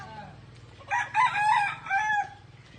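A rooster crows loudly and nearby beside chicken cages in a rural village in Biringan, Samar, its drawn-out call breaking into several segments over a low, steady background hum.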